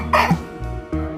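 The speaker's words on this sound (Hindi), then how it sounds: "खांसी आ रही है" A child coughs, a short burst followed by a couple of softer coughs, close and clear with no talking.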